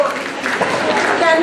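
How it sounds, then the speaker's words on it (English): A brief wash of loud clapping from an audience at a school community event, dense and continuous, with crowd voices mixed in. "Let's clap very loudly."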